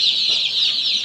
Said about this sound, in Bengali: আপনার 15 দিন বয়সী, 1 মাস বয়সী আপনার ফার্মি মুরগি এটা।